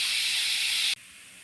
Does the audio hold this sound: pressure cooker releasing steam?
yes